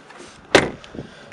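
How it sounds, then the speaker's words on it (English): The driver's door of a Citroen C3 Picasso car opening, heard as a single sharp mechanical clunk of the latch close by, followed by a softer thud in a quiet setting. "Open up the driver's door, take a quick look inside."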